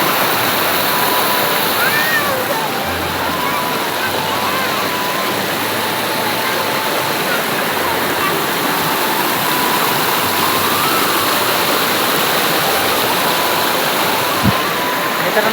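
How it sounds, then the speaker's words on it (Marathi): A stream near a small dam rushes continuously, a broad steady wash of flowing water heard close by with no pauses. "धरण आहे, ओढाच आहे."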